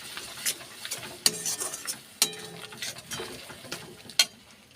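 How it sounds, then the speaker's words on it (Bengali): Masala and yogurt being stirred and fried in a pan for katla fish kalia, with scraping spoon strokes at an uneven rhythm over a soft sizzle, close and moderately quiet. "ভালো করে মশলাটা কষিয়ে নেব"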